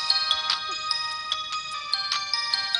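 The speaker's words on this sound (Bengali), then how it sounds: "এই তো রাজাই ফোন করেছে" A telephone ringtone chimes repeatedly in an evening domestic scene, its bright electronic pulses recurring steadily and clearly near, with no talk over it.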